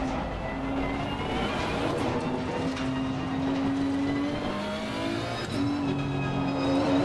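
Race car engine in Assetto Corsa Competizione, a steady close-up engine note that climbs through the revs, drops at gear changes and climbs again, with tyre and road noise underneath.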